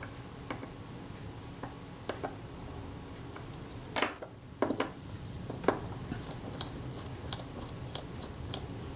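A Synchro-Compur camera shutter being serviced on a bench fires repeatedly, its clean blades opening and shutting in a series of crisp, close mechanical ticks and snaps against quiet room noise.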